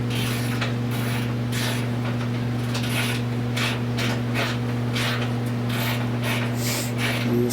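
Inside bolts come out of the wheel well of a 1970 Buick Wildcat to a steady ratcheting and clicking of tools, heard over a constant low machine hum throughout.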